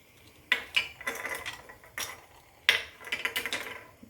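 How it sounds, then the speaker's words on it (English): A small paring knife scraping and clicking against mussel shells while cutting the mussels loose, a handful of sharp close taps and scrapes in an irregular rhythm, fairly quiet with no talking. "Take a small paring knife and cut the mussel loose from the bottom shell."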